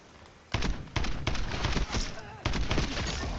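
KRS 7.62 rifle fire in Black Ops 7: several loud, sharp gunshot bursts in uneven rhythm after a quiet start, with a voice talking underneath.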